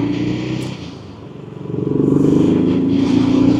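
A BSA Gold Star motorcycle engine rumbles steadily while riding, dipping briefly and then swelling louder as it pulls, with a close, continuous low drone and no talking.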